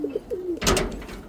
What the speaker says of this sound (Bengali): এই যে এই পাশেরগুলোও কিন্তু নর কবুতর, প্রত্যেকটা কিন্তু নর কবুতর।